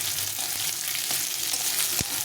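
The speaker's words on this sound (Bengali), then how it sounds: "পেঁয়াজটা যেন সেদ্ধ হয় এরকম ভাজতে হবে" Long-sliced onions fry gently in a pan with garlic and ginger, giving a close, steady hiss of sizzling oil, broken by a few soft spatula stirs and one sharp scrape near the end.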